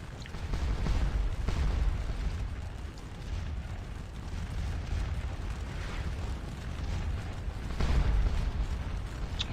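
Troops firing on French cavalry in a video game make a dense, continuous rumble of overlapping gunfire and booming blasts that rises and falls in waves, loud and fairly close, with no talk.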